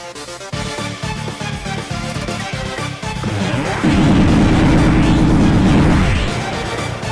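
A run of loud booming blasts in quick succession, with rumbling impacts and crashes building to a sustained roar, like explosions in an Undertale fan game.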